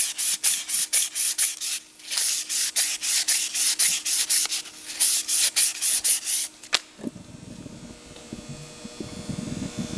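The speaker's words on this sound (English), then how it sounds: "the surface on the brake ring, we want to polish that up just a bit" The brake ring from an MGB overdrive unit is polished by hand with rapid, rhythmic rubbing strokes of abrasive on metal, close and loud. A short pause breaks the strokes before they stop, and a quieter low rumble follows.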